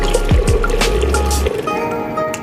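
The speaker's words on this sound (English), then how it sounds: "Pour half of the water into the pot." Water is poured into a cooking pot for a steamed chicken dish: a steady close gushing fill with low glugging that stops after about a second and a half, leaving faint drips and trickles.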